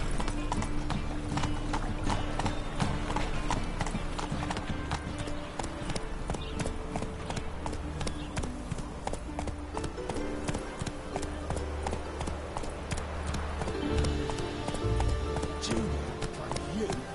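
A horse gallops in The Witcher 3 game, its hooves drumming a fast, steady clip-clop that continues throughout under dense game music and ambience.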